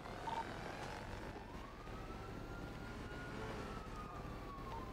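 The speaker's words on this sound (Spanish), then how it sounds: "Una patrulla de nuevo para Vanilla." A police siren in a video game wails steadily in rising and falling sweeps, sounding somewhat distant over a constant low background hum.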